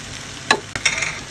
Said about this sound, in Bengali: নুডলসটা দিয়ে এখন ভালো করে মিলাই নিব এটাকে।